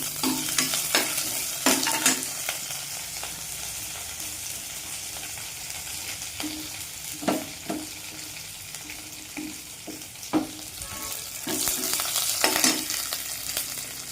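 Chopped green chillies and curry leaves sizzling in hot oil, a loud close crackling fry with intermittent sharp spits and stirring scrapes throughout, no voices.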